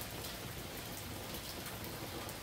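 Light dripping rain falls outdoors as a soft, steady, even hiss of drops, faint and continuous without any voices.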